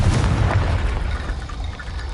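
A Confringo fire spell detonates in Hogwarts Legacy, a dense, loud boom with a rumbling low-end tail that stays heavy for a couple of seconds with no talking over it.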